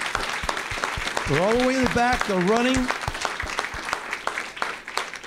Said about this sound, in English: And give these folks a nice round of applause.